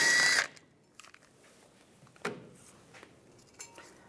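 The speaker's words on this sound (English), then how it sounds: "I'm going to use a T30 socket." A power tool with a T30 socket whirs in a short, loud burst while backing out the front brake rotor screw on a 2007-2013 Chevy Silverado 1500, followed by faint metallic clicks and light clatter.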